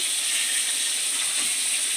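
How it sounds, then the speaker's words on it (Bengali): Fish frying in a pan for a home-cooked curry, giving a steady, close broadband sizzle and hiss with no gaps and no talking. "মাছগুলো ভাজছি"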